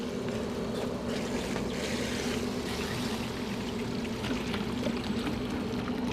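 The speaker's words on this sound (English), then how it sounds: "Turn the pump on to flush water through." A pool pump pushes water through a saltwater chlorinator, giving a continuous rushing, pouring flow that stays steady and close throughout.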